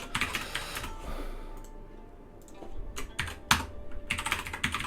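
Rapid typing on a computer keyboard, close and fairly quiet, with bursts of clicking keystrokes separated by brief pauses.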